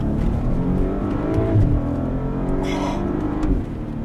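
A Volkswagen Passat R36 engine pulls hard from inside the car, a rising, steady drone that sweeps up in pitch and eases off near the end. A voice is faintly audible underneath.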